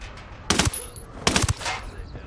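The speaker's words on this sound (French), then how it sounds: "Un sicario, il a un minigun, le salaud." Two rapid bursts of minigun fire ring out in the Ghost Recon Wildlands video game, each a loud, fast rattling volley about a second apart, followed by quieter game ambience.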